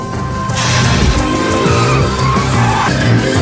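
A car swerves out of control in a film scene, its tires squealing and skidding loudly over roaring engine noise and dramatic background sound.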